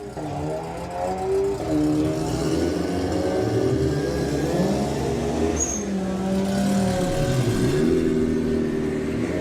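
A Volkswagen Golf R and a Golf GTI launch side by side in a drag race, engines revving hard and rising in pitch as they pull away, loud and continuous with gear changes and crowd ambience.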